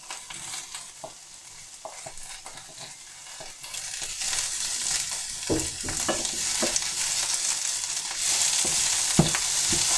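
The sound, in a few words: peppers frying in a pan with carrot, onion and beans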